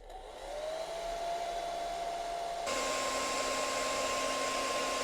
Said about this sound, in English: This is an 1800 to 2000 watt hairdryer.